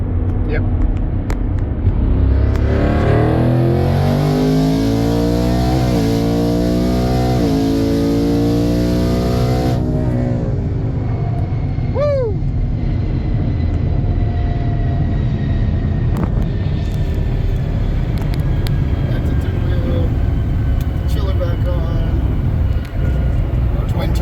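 A turbocharged truck engine revs hard, its rising and falling harmonic whine sweeping up through a loud, sustained roar before dropping back to a steady rumble with a faint high turbo tone.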